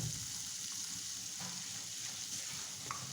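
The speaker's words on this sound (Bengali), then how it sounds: "তেল গরম হয়ে গিয়েছে, এখন ভেজে নিচ্ছি পেঁয়াজকে।" Onions fry in hot oil with a steady, moderate sizzle and faint stirring scrapes, heard close and alone with no voices.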